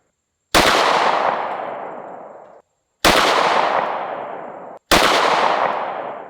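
Three pistol shots fired at a range, each a loud sharp crack followed by a long decaying echo, spaced a couple of seconds apart with silence between.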